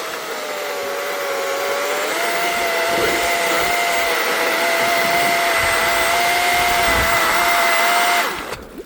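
A steady, high-pitched electric saw whines continuously for several seconds, cutting through blocks of ice, then stops abruptly near the end.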